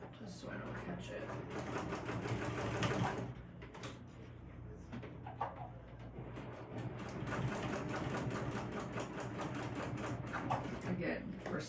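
A sewing machine stitches a crossbody bag in waxed canvas or vinyl, a fast steady mechanical whirr running in long bursts with a brief pause, under a person talking throughout.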